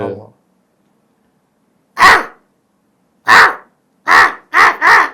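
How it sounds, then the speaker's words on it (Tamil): Several loud, harsh caws from a single bird, close by, arriving in separated bursts with the last two coming quickly one after the other. "அந்த காக்கா கத்துற சவுண்ட் இருக்கு"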